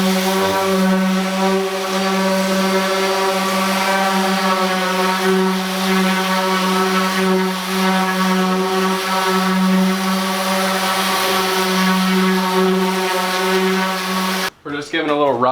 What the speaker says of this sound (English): let's sand her down.